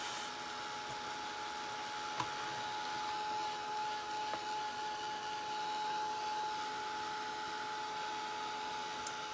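A hair dryer blows to dry wet paint on a bench, making a constant, moderately quiet whooshing drone with a faint steady hum and a couple of small knocks, with no voices.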